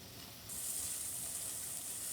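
Vegetables seasoned with salt sauté in a pan, giving a steady, close sizzle that swells slightly louder partway through as they are stirred, with no talking.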